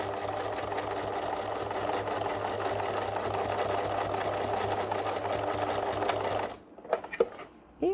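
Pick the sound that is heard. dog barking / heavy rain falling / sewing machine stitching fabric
sewing machine stitching fabric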